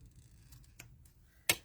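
One sharp snip of scissors trimming card stock, close and fairly quiet, following a few faint ticks and light paper handling in a quiet room.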